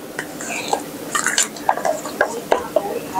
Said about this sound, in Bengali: এখন এটা ভালোভাবে সম্পূর্ণ ওটাকে মিশিয়ে নিতে হবে।